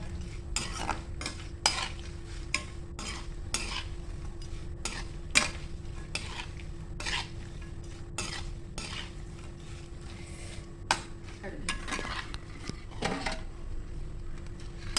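Dried coconut pieces frying in a pan for poha chivda, with repeated stirring clinks and scrapes of a spoon against the metal over a soft steady sizzle, close up and without talk.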